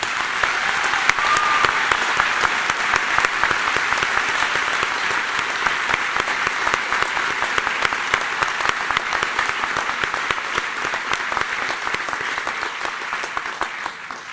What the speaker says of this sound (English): Can we have a round of applause for Connie and Bill?